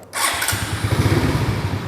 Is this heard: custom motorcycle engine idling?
yes